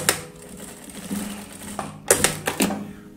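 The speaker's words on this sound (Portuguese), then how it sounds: "vou passar uma costurinha aqui com um pezinho de máquina" Sewing machine stitching zipper trim under a presser foot on a fabric box pouch, with short rapid mechanical runs and brief pauses between bursts of stitching, close and clear.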